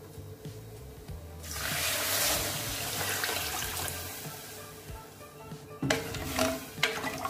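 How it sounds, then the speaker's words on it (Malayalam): Water pours steadily into a cooking pot while kadala pradhaman is being made, a rushing, splashing stream lasting several seconds that eases off, followed by a few brief clatters of the pot. "നമുക്ക് ഇതിലോട്ട് ആവശ്യത്തിനുള്ള വെള്ളം ഒഴിച്ചു കൊടുക്കാം."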